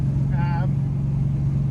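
Turbocharged Holden Torana, one of only 33 made, cruising at highway speed, its steady low engine drone and road noise continuous throughout, with a brief higher whine near the start.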